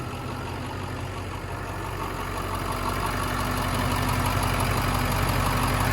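A school bus diesel engine idles steadily with a low, rumbling drone that grows slightly louder toward the end, with no other sounds.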